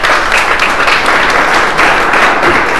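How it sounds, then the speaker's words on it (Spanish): Loud, continuous audience applause fills the whole stretch at a graduation ceremony, a dense, even wash of clapping with no talk over it. "Muchas gracias. Aplausos."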